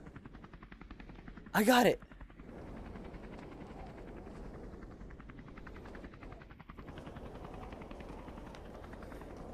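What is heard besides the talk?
helicopter in a video game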